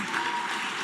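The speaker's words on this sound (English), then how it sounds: "Give yourselves a round of applause." Brief burst of audience applause at a Turning Point USA event, a dense wash of clapping heard alone for under a second.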